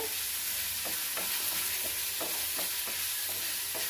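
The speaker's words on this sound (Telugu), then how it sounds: "నూనెలో వేగితే బాగా టేస్ట్గా ఉంటుందండి. పుదీనా సపరేట్ వేపుకోవాలి." Mint leaves fry in oil for a chutney, giving a loud, dense sizzle with repeated scraping strokes of a spatula stirring the pan at a fairly even rhythm, close up and with no talk.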